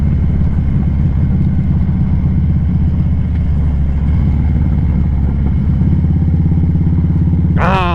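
A Harley-Davidson motorcycle on a hot-day test ride rumbles steadily with a deep, throbbing low engine note, loud and close throughout, with a rising whine as it revs at the very end.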